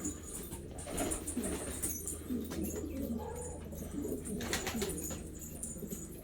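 Pigeons coo softly and repeatedly in a loft with white frillback pigeon chicks, low murmuring calls continuing steadily under a constant background hum, with a few faint chirps and wing sounds.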